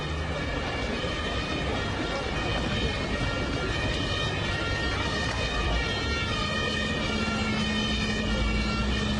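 A fire engine's wailing siren rises and falls continuously over loud traffic rumble, close and steady throughout.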